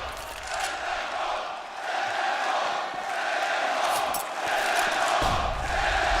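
A big esports arena crowd at a Counter-Strike major semifinal roars and cheers continuously, a dense, loud wash of voices that swells in waves with scattered shouts throughout.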